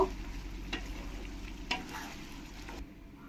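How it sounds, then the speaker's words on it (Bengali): Ridge gourd, potato and bori curry stirred in a pan, with a low steady sizzle and a few soft scraping strokes of the spoon, close and fairly quiet. "ভালো করে আমি আলু বড়ি সব কিছুর সঙ্গে একবার মিশিয়ে নেব"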